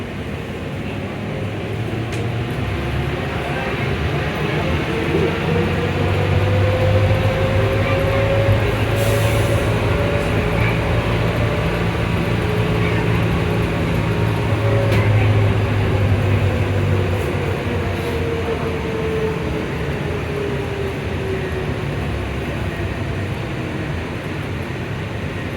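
An airport tram heading to the D gates rolls along with a continuous low rumble and rising-then-falling motor whine, a steady interior ride sound with a few faint clicks and no talking.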